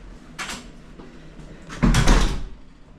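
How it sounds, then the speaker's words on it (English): A Disney Riviera Resort hotel room door is unlocked and pushed open. A light click comes first, then a louder thud and swing of the heavy door, close by and with no talking. "Open the door."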